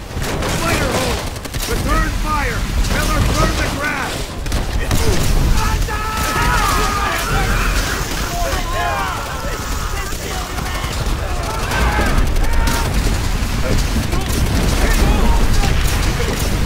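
Dense battlefield gunfire in a Call of Duty: World at War assault on a fortified bunker, with rapid bursts and scattered shots layered into a constant loud wall of combat noise, while voices shout over it.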